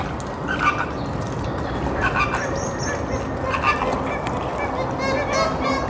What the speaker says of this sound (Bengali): ফ্লেমিঙ্গো পাখি, ফ্লেমিঙ্গো